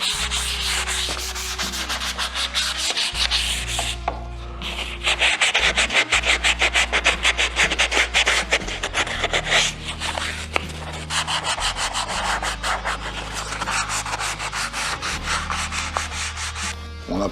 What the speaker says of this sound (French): On va commencer avec du 400 et on va juste redonner une passe légère en fait sur tout notre manche